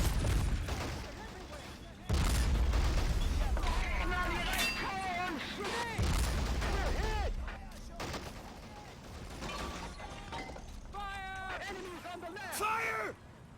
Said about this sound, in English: Brought in some cannon here, which blew up something over there.